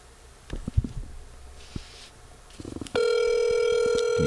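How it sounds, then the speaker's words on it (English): A telephone call is placed: several clicks and handling knocks, then a steady, loud tone that holds to the end of the clip. "I would like to place a phone call"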